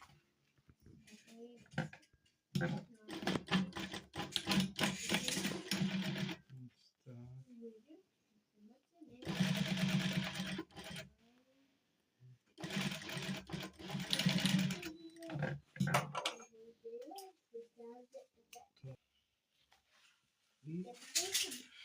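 A sewing machine stitches a cover for a frying pan made from a harrow disc. Short bursts of rapid mechanical stitching alternate with someone talking between runs.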